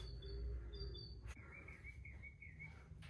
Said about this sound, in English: I can hear the birds chirping outside.